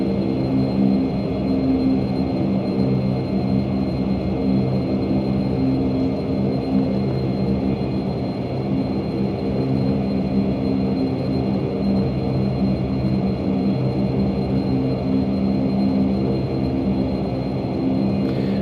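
A Majestic Q400 turboprop taking off in the Prepar3d flight simulator: a steady, loud engine drone with a low rumble and sustained tonal hum, unchanging and continuous, with no talk.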